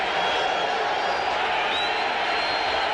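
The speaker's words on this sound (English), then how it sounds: "A crowd trying to make some noise." Broad, steady roar of a stadium crowd at a 1992 NFL football game between the Buffalo Bills and San Francisco 49ers, loud and continuous with a faint whistle-like rise partway through.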